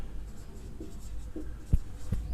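Handwriting with a pen on paper, soft scratchy strokes over a steady low background hum, with a few brief louder taps near the end.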